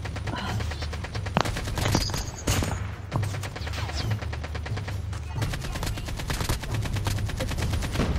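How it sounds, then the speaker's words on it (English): Gunfire in the Call of Duty Mobile video game, including shotgun fire, with dense repeated shots and bursts running steadily throughout at close range, loud and continuous, with a little talk underneath. "I have a shotgun and I'm not good with shotguns"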